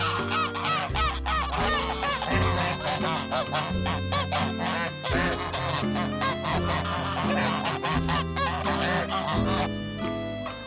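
A flock of young geese honks loudly and continuously, their overlapping calls crowding together close by with no pause.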